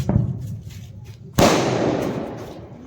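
A chocolate bomb firecracker bursts with one loud, sharp bang partway through, and a long crackling rumble trails off after it. Quieter outdoor noise comes before the blast.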